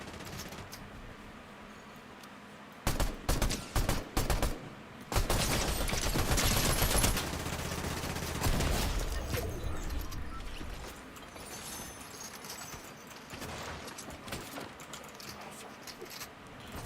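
Gunfire in a video game crackles in several rapid bursts, with short clustered volleys followed by a longer sustained stretch of automatic fire, loud and close, then fading into quieter background game noise.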